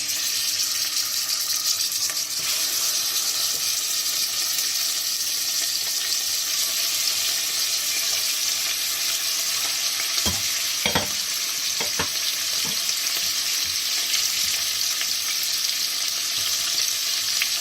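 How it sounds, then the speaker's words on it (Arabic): Pieces of meat frying in hot oil with butter in a pot for an Algerian almond tajine, giving a steady, loud sizzle throughout with a few sharp stirring clinks near the middle. "لا فيوند il faut juste la faire dorer sur les deux côtés."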